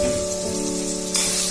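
Mutton kothukari masala with onion and tomato sautés in oil in a pan, giving a steady close broadband sizzle with a faint hum underneath that brightens and swells briefly near the end.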